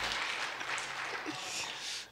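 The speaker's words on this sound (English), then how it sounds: "Can we just give the Lord a round of applause?" Church congregation clapping in a steady, dense wash of applause that fills the whole moment at moderate volume, with no voices on top.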